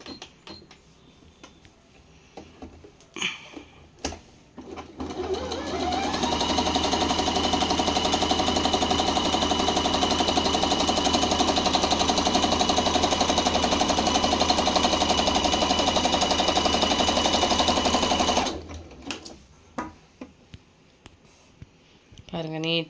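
A table top sewing machine starts up and stitches steadily for about twelve seconds with a loud, even mechanical whir, then stops, with a person talking before and after the run.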